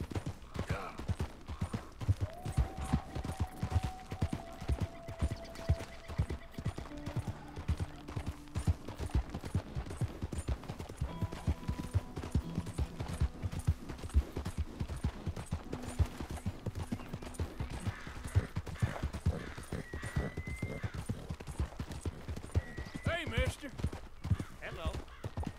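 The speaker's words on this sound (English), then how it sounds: "Better at riding my horse here." Horse hooves clip-clop in a steady, rapid rhythm while riding in Red Dead Redemption 2, continuous throughout with faint tonal game sounds and someone talking over it.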